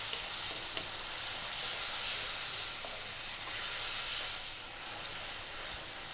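Tomato frying in a hot pan for bheja fry gives off a loud, steady, close sizzle and hiss that runs unbroken throughout, with occasional faint stirring and no talk.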